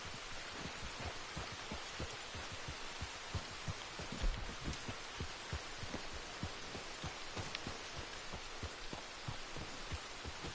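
Steady rain in the Red Dead Redemption 2 video game, a dense continuous patter of drops on surfaces with soft thuds throughout, fairly quiet and even, with no talking.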